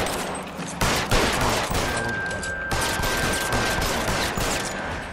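Machine gun fire rattles through a gunfight in LA Noire, a dense, continuous chatter of shots with a sharp burst near the start and a thin ringing tone layered over the sustained racket.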